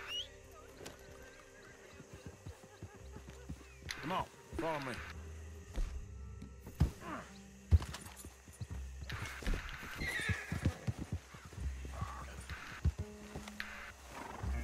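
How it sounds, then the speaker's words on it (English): Horse whinnies and clip-clopping hooves in Red Dead Redemption 2 gameplay, with a short neigh burst and scattered hoof and movement sounds, mixed with game noise and someone talking over it. "Why is my horse here?"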